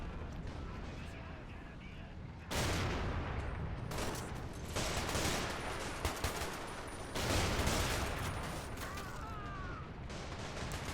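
Artillery and small-arms fire rage in the Men of War: Assault Squad battle as giant British Churchill land cruiser tanks and infantry attack, dense rolling blasts and crackling volleys layered throughout, swelling louder in bursts, with a voice talking over it.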